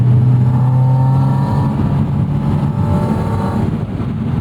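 Porsche 718 Spyder, a mid-engine sports car, revs loudly and steadily up close on a street, the engine note rising and holding with a dense, continuous roar throughout.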